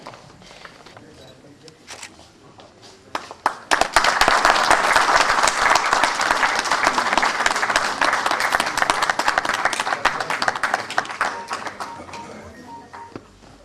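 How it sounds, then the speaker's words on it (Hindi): At a 1998 batch reunion lamp lighting ceremony, a few scattered claps and clicks build suddenly into full, loud audience applause that carries on steadily, then tapers off toward the end. "तालियां बजती रहनी चाहिए।"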